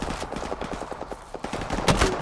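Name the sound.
grenade launcher firing in video game Call of Duty Modern Warfare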